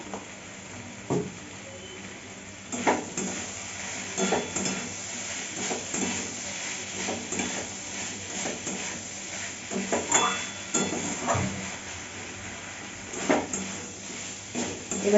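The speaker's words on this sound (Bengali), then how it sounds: "এবার নেড়ে চেড়ে নিয়ে চিনিটা ভালো করে একটু মানে গলে ভিতরে হয়ে গেলে ঢেলে ফেলবো" Sugar stirred in a frying pan gives a soft background sizzle with intermittent scraping and clinks of a utensil against the pan, fairly quiet and close.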